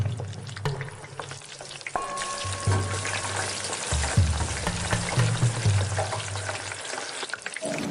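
A donut with an egg in its center fries in hot oil, a steady crackling sizzle with stirring clatter running throughout, close and moderately loud.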